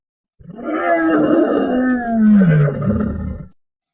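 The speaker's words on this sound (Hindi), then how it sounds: "ऐसा कहकर उसने जोर से दहाड़ लगाई।" A cartoon lion lets out a single loud, drawn-out roar that rises and then sinks into a deep groaning finish, heard alone against silence for about three seconds.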